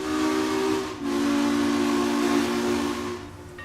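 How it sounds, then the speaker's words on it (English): A steam train whistle blows in the Trainz video game, a loud sustained hissing tone with a brief dip partway through, heard alone. "Yes, the whistle blew."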